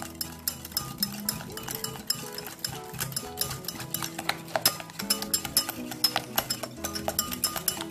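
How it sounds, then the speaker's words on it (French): Vanilla sugar and orange zest are mixed in a bowl, with soft, quick clinks and scrapes of a utensil against the bowl repeating in an uneven rhythm, close but quiet. "Et puis, je mélange tout ça."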